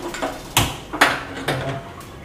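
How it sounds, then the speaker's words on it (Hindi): A kitchen gas stove's igniter being switched on while sambar cooks: four sharp, close clicks spaced about half a second apart, the first two loudest and the last faint, over a quiet room with no talking. "गैस ऑन कर देते हैं,"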